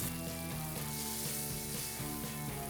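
A Beyond Sausage plant-based bratwurst sizzles steadily in a hot pan, a loud, continuous close-up frying hiss with faint rhythmic tones underneath.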